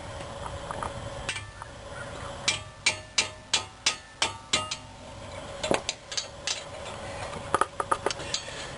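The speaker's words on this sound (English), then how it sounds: "now we have these two bolts to take this bracket off" Wrench ratcheting on the number 17 brake bracket bolts of a 1997 Toyota Camry, a close series of sharp metallic clicks in a steady rhythm, then a few scattered clinks of tool and bolt.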